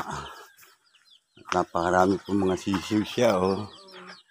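Bantam and native chickens with chicks in Talin Talin, Libon, Albay, heard as a run of close, throaty clucks and short calls, with a person talking briefly at the start.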